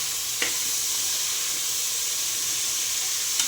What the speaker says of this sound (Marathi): सगळ्या भाज्या एकदम छान फ्राय करून घ्यायच्या।